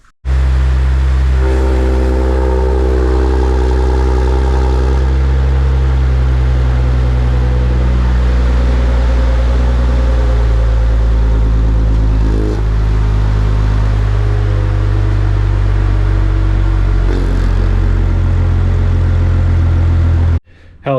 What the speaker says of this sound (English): Now let's start the car and see if these valves work.